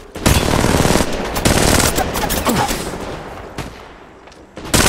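Rapid gunfire from Apex Legends Mobile fills the mix in loud, repeated bursts of sharp cracks, easing briefly before another close volley.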